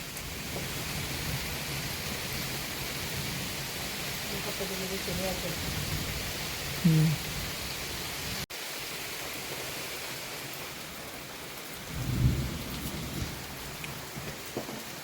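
Steady rain hisses throughout in a Kerala village, with a low rumble of thunder swelling briefly near the end; faint voices murmur underneath.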